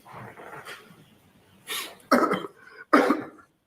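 Coughs in a courtroom during witness testimony at a trial: a faint first cough, then two sharp, close coughs about a second apart, with no talking.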